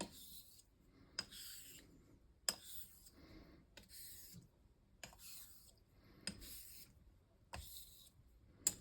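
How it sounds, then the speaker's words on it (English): A Henckels straight razor strokes back and forth across a Tam O'Shanter Scotch hone, a gritty scraping rasp in regular passes about once a second, each stroke starting with a sharp tick of the blade flipping, close and quiet. "Feels like gritty when honing on it. This is the tam Shanter Scotch hone."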